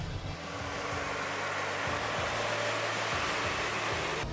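A Caterpillar 777 mining truck coasting downhill off the throttle, giving a steady, loud broadband rumble and rushing drone with low engine harmonics throughout, no talking.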